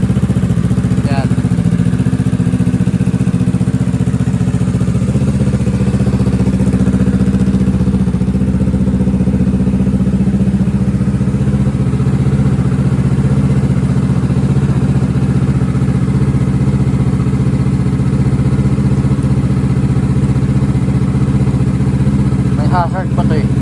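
A Kawasaki Z650 motorcycle idles steadily through a cold-start warmup, a loud, continuous low engine rumble with light mechanical clatter and a few brief clicks near the start and end.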